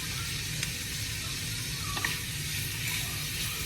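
Beef sausage frying in a pan for chicken and sausage gumbo, a steady soft sizzle throughout with a couple of faint crackles and pops, no talking.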